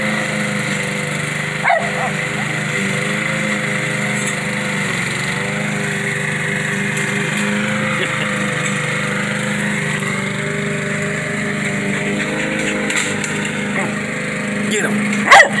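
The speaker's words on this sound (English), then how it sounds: "Go get the lawnmower." A lawn mower engine drones steadily throughout, with a dog's occasional bark and faint voices in the background.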